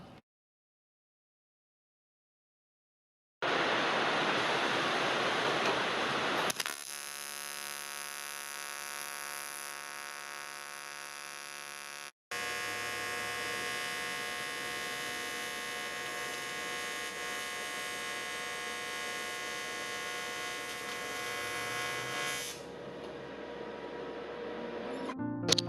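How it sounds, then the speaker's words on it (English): Welding along the tops of a vintage Viscount caravan roof during restoration, a steady continuous buzzing hum with a strong tonal drone that shifts pitch partway and runs unbroken for long stretches, close and fairly loud, with no talk. "I'm just slowly working my way along, welding up the tops of the roof"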